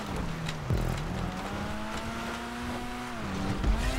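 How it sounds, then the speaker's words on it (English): Race car engines howl in a GTA 5 Online stunt race, steady sustained tones that shift in pitch as the cars accelerate and ease off, with a brief tire scrub in the middle. "I hear engines."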